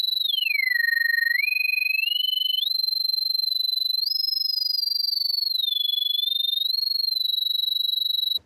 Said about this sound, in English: I found that like the sine wave for a little bit lower portion of the sound in frequency